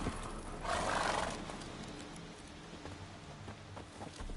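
Roach, Geralt's horse in The Witcher 3 on PS5, snorts and whinnies briefly up close, then its hooves clop along under steady rain.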